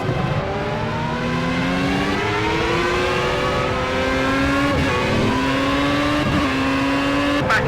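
Formula A open-wheel race car at Hockenheim in Project CARS accelerates hard out of a turn, its engine whining loudly and steadily upward through gear changes with brief dips at each shift, alone without talk.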